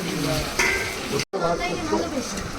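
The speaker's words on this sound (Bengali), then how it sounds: "আর ওদিকে মাছ ভাজা হচ্ছে" Fish sizzles steadily in hot oil, a loud, close crackling hiss that stops for an instant before carrying on.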